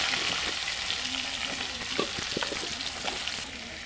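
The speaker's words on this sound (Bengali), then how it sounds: "এই তো পটলগুলো ভাজা হয়ে যাচ্ছে" Sliced pointed gourd (potol) fries in a pan with a steady bright sizzle, broken by occasional soft scrapes and clinks of stirring, no talk.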